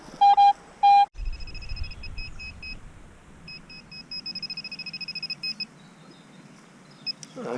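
A metal detector's electronic tones while detecting in a field: two loud beeps, then a string of rapid pulsing chirps and short bleeps over a faint background hum.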